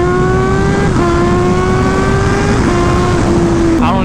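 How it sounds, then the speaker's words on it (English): A Kawasaki ZH2 motorcycle at full throttle gives a loud, continuous engine howl that climbs steadily in pitch, with brief dips at gear changes, close up and alone. "the throttle of this bike, the bike just like keeps pulling and it just wants to go"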